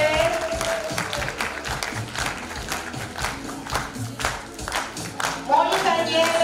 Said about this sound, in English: A big clap for Monica Nyele.